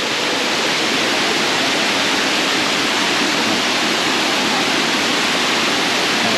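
Engkanto Falls, a small waterfall in Libmanan, Camarines Sur, roars as a steady, dense rush of falling water, loud and close, with no break and no voices.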